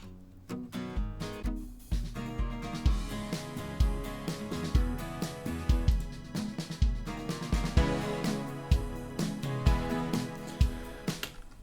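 An unmixed acoustic indie rock beat built in FL Studio plays on its own, with steady punchy drum hits, bass and layered guitar-like chords at a moderate, even level.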